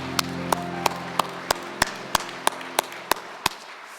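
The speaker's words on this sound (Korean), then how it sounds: "우리 하나님께 영광의 박수 올려드립니다" Slow, evenly spaced claps, about eleven in four seconds, ring out in a church service, crisp and distinct over a soft sustained tone that fades away.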